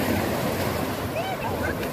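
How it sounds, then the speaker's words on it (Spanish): Ocean waves washing onto a Mexican beach at Playa Las Gatas, Zihuatanejo, a continuous broad rushing surf with wind buffeting the microphone, close and steady. "Miren, aquí las olas que..."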